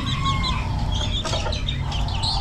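Bantam chickens cluck close by, a busy overlapping series of short clucks and calls from several birds over a low, steady background rumble.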